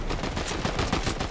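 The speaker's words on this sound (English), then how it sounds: "I got sniped." Sniper gunfire in the video game Fortnite comes as a brief, dense flurry of sharp cracks packed into about a second, loud and close with no voices.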